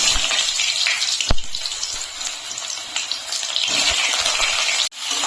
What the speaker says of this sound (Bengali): হিংটা দেওয়ার পরে আমি পেঁপেগুলো ছেড়ে দিচ্ছি তেলে।